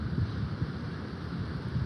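Wind buffets a microphone outdoors in Chicago, a steady low rumbling roar with gusty fluctuations that fills the whole moment, no voice present.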